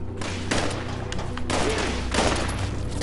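Bursts of gunfire from Fallout 76, shots rattling in quick clusters at about half a second, a second and a half and two seconds, loud over steady background game sound with no talk.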